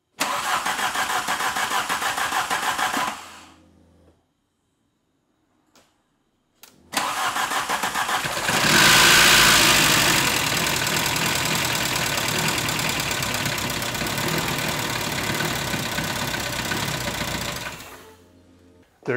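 A 1992 VW GTI, left standing for 8 years, cranks and catches, runs briefly and cuts out, then after a silence restarts with a rising rev and settles into a steady, buzzy idle before shutting off, no talking.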